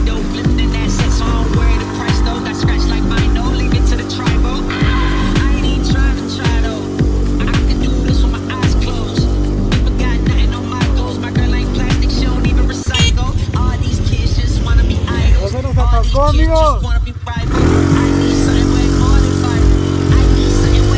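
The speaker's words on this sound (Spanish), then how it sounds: "Ya se nos atascó la moto." A quad ATV engine revs loudly and steadily as the machine sits stuck in dirt, with harmonic engine drone throughout and a brief drop near the end before it roars again.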